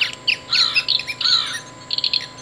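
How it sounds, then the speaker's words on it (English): Purple martin call played from a Wild Republic Audubon plush toy bird: a series of bright, gurgling chirps and squawky warbles, fairly loud and close with short gaps, no talking. "Purple martin."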